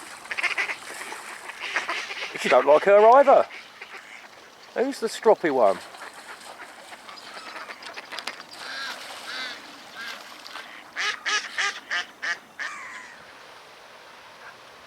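Agitated mallard quacks and squabbling calls in short bursts as drakes fight over a hen, fairly close, with someone talking quietly in between.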